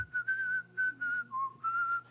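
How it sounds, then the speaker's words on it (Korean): One person whistling a short tune in praise, a clear, close melody of several sustained notes broken by brief pauses, heard alone and fairly quiet. "이 아도에는 뭐가 들어있냐면 휘파람이 될 수도 있어요"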